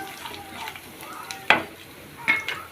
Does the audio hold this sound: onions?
yes